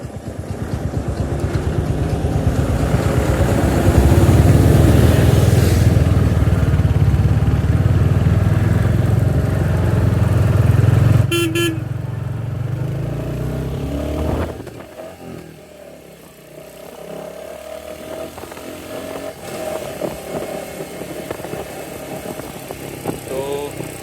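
A Royal Enfield Hunter 350 motorcycle rolls along in gear, its engine thrumming steadily and loudly, then easing off into a lower, quieter run with wind and road noise, while a rider talks at times.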